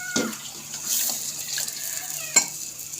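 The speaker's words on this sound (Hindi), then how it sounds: "और अब इसमें मैं तकरीबन 2 गिलास पानी ऐड करूँगी।" Water is poured into a pot of potato and egg curry, splashing and gurgling up close in short bursts over a few seconds, ending with a sharper splash.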